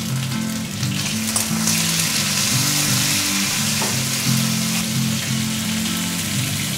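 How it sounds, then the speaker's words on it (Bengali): Sliced pointed gourd fries in mustard oil in a pan, giving a steady, loud, continuous sizzle with occasional stirring and no voices. "পটল ভাজা হয়ে গেছে"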